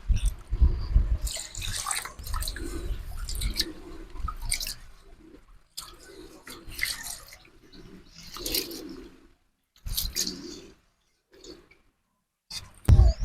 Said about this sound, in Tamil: அரிசியை நல்லா தண்ணி விட்டு முதல்ல அலசிக்கிடுவோம்.